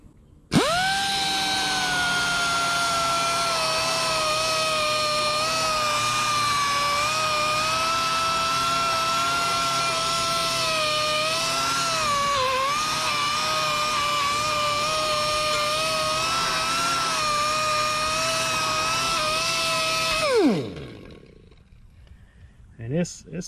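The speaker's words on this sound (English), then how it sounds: "I'm going to be using this little Durapeak strip wheel here real quick." A small Durapeak strip wheel on a power tool grinds paint off a VW Beetle part, a loud steady high-pitched whine held for about twenty seconds before spinning down and stopping near the end.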